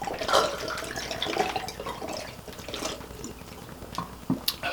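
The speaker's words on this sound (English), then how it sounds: "I'm gonna start every video now by chugging a bottle of water" A bottle of water being gulped down in one long go, with a wet, sloshing liquid sound and irregular swallows and splashes, close up and fairly loud, with no talking.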